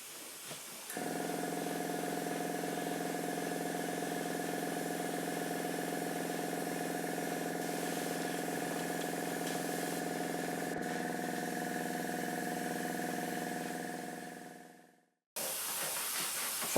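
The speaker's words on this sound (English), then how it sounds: "I will now airbrush this colour inside and out." An airbrush sprays orange paint onto a Dinky Toy 252 refuse truck, making a steady close hiss over a continuous compressor hum that fades out before a brief restart.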